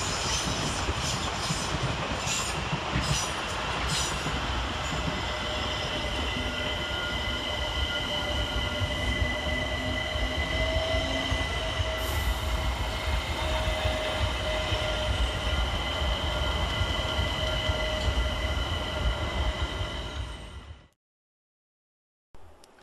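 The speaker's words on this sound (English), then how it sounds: "your final train of this stint is 378151 with the 1930 London Overground service to Dalston Junction" A London Overground class 378 electric train runs through Clapham Junction station, a loud, close rumble of wheels with squeal and clatter on the rails lasting about twenty seconds before cutting to silence, no talk.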